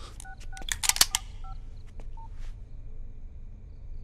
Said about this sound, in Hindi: राकेश भाई, एक फोन सिडनी को।